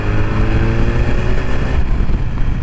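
A BMW S1000RR motorcycle pulls from low speed in sixth gear, its engine a loud continuous drone building smoothly under rushing wind throughout.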